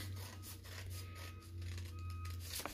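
Scissors snip through a paper weaving loom during a children's art lesson, giving soft, repeated rasping cuts close by over a steady low background hum.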